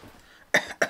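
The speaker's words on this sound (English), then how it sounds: "I need you to cough" A person coughs twice during a staged medical examination, two sharp, close, loud bursts after a quiet lead-in.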